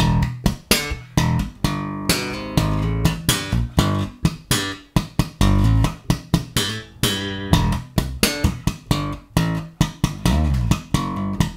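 Slap bass riff played slowly and evenly, with thumb-slapped low notes and sharp string pops in a steady repeating pattern that stays loud and close throughout.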